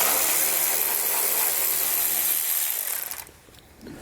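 A power tool whirs steadily while backing out 10mm bolts from the top of a 2018 Chevrolet Silverado grille, a sustained high buzz that cuts off abruptly near the end, leaving a faint rattle.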